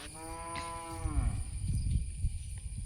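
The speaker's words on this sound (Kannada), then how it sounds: "ದನಗಳು ನೋಡಿ ಮೈತಾ ಉಂಟು, ತುಂಬ ದನ ಉಂಟು ಅಲ್ಲಿ" A cow grazing among a herd in a green field moos once, a long, fairly loud low call that slides downward and fades into soft rustling and ambient noise.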